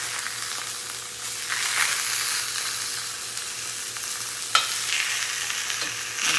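Fish frying in a pan over fairly high heat, giving a steady, close hiss of sizzling oil throughout with a few sharp pops and crackles, no voices.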